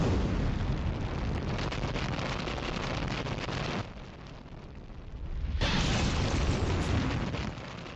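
Atomic bomb explosion in a Futurama cartoon, a loud sustained roaring blast that drops away briefly near the middle and then surges back with full force before easing off, no voices over it.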